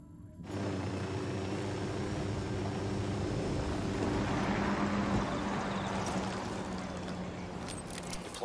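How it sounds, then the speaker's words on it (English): A drone in the video game Ghost Recon Wildlands hums steadily with a low engine drone, holding level and continuous after a brief quiet start, with a faint hiss above. "Drone is airborne."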